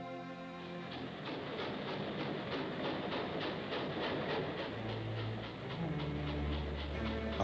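A train rumbles along the rails with a steady rhythmic clatter of wheels over track joints, loud and close, continuous throughout.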